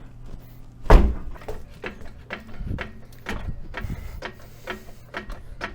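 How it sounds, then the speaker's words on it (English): Metal thunks from kicking the axle of an abandoned Chevrolet Blazer under off-road rebuild, one hard knock near the start followed by a string of lighter irregular clanks and taps, close by with no talking. "Kick the axle once."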